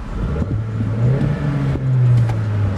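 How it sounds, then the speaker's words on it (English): Engine of a 2011 Chevy Cruze LT with a six-speed manual transmission revving from inside the cabin, rising and holding a steady drone with a second swell near the end; no talking. "See, it revs up just fine."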